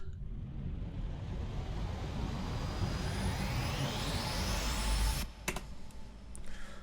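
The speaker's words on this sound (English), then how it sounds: "I really love using risers." A riser in a pop beat sweeps steadily upward in pitch over about five seconds as a loud noisy swell, then cuts off abruptly into a sparse hit and short percussive ticks.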